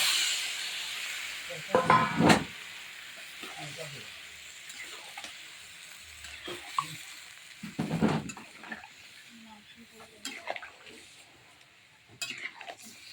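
Cauliflower and peas are sautéed in a pan over a wood fire, a soft continuous hiss broken by a few louder bursts of stirring and scraping.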